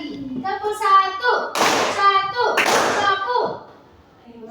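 Classroom students clap together in a rhythmic pattern during a lesson, two broadband bursts of hand claps standing out amid children's voices and a teacher's chanted call.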